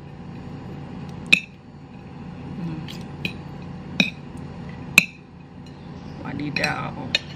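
Instant noodles with Bon Cabe chili flakes are stirred in a bowl, with a few sharp utensil clinks spaced a second or so apart over a low, steady background, close and without speech.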